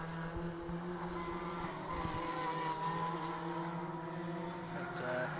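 Mid-engined, rear-wheel-drive single-seater race cars with bulbous VW Beetle bodies drone steadily at Oulton Park, a sustained engine hum in the background under a commentator's voice.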